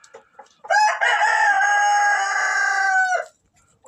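A rooster at a snowbound chicken coop lets out one long, loud cock-a-doodle-doo close by, lasting over two seconds, preceded and followed by softer clucks from the hens during a late-winter blizzard.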